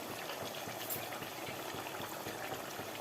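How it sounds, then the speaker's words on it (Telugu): Chicken frying in biryani masala for a Karnataka-style chicken dum biryani, a steady soft sizzle and bubbling that stays quiet and even throughout, with no voices. "ఈ మసాలాలలో ఈ చికెన్ బాగా వేగాలి."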